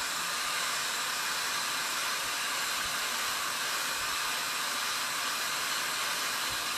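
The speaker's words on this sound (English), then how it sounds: "And I'm using a cool setting on my blow dryer." A blow dryer on its cool setting dries a transfer applied to a craft piece. It gives a loud, steady, close airy whoosh that runs unbroken throughout with no talking.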